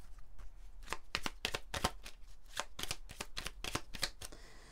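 A deck of oracle cards being shuffled by hand, with a quick run of crisp riffling slaps and flutters, close and fairly loud, with no talking.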